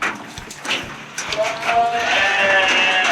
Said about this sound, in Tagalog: May ibang boses rin pala ng mga sheep.